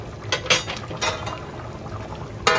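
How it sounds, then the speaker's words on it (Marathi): Thick mutton curry bubbles and pops in a pot, with irregular soft bursts spaced apart over a low background hiss. "चांगलं रटरट चांगलं मटण शिजतंय"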